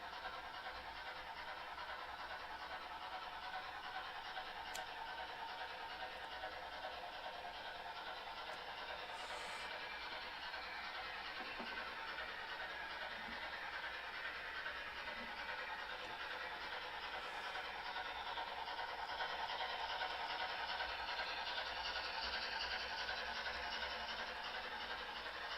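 A BLI GS4 Daylight model steam locomotive, number 4449, runs steadily with a continuous faint mechanical whir and soft chuffing hiss, even and unbroken throughout.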